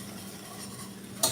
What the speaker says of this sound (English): So I'm gonna whisk this roux up